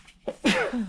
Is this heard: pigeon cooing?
no